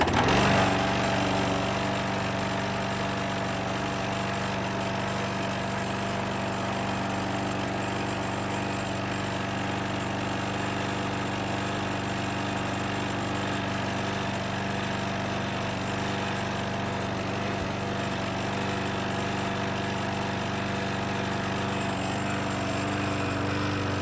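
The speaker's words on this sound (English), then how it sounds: "I gotta let it run for a while, see if that leak comes back." A Craftsman lawn mower engine with a recent oil leak behind the muffler idles steadily and close by, a continuous even drone that carries on for the whole stretch without voices.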